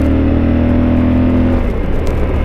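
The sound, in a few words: Yamaha Super Tenere motorcycle accelerating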